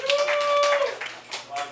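Comedy club audience clapping in brief scattered bursts alongside a whistle-like tone, close and moderately loud, with a voice from the stage speaking over it.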